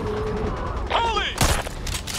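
Gunfire rings out in the zombie shooter Back 4 Blood as a few sharp, loud shots and booms in quick succession, mixed with tense game sounds and the hum of nearby voices.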